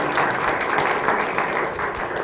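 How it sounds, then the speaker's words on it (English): Audience applause at a county freeholders ceremony honoring Livingston High School students, a dense, steady patter of many hands clapping in a hall, moderately loud and continuous with no speech on top. "So let's have a round of applause for them."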